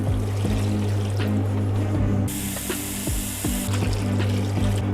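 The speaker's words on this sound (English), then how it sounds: "only thing left to do is get in some water" Water trickles and splashes into a pot of lentil stew, a bright hissing pour lasting over a second, set against a loud steady background hum with scattered clicks.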